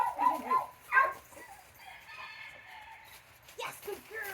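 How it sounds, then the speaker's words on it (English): Chickens cluck faintly in the background, with short clucks and a crowing rooster, while people talk over them at intervals. "Hey, there's chickens over there,"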